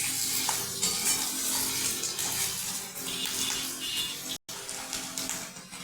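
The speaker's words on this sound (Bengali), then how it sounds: "আলু দিয়ে একটু ভালো করে ভেজে নেব আলুটা।" Diced potatoes and chopped onion fry in a pan for a fish curry with gourd leaves, giving a close, even sizzle with small crackles and a short break before the hiss resumes.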